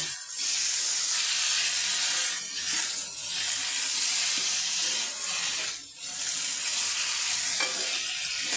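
Drumstick (moringa) sauce being lightly fried in a pan, giving a dense, continuous loud sizzle and hiss up close, with a few brief dips where it is stirred.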